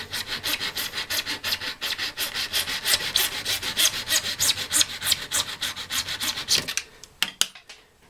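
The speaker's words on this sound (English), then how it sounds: "Cutting off the end now" A saw cuts off the end of a bottle-organ fipple in quick rhythmic back-and-forth rasping strokes, close and continuous, before stopping with a few loose taps and clicks.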